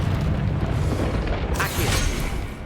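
A Confringo spell blast in the Hogwarts Legacy video game: a loud, booming, continuous rumble, with a brighter crackling burst partway through.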